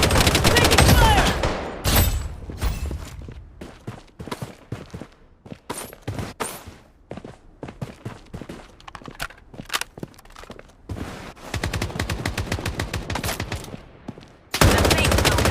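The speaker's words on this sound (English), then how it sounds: "Taking fire!" Rapid automatic gunfire fills a solo ranked match of the video game Bloodstrike, with dense machine-gun bursts, scattered single shots and footstep crunches between them, plus brief in-game voice callouts.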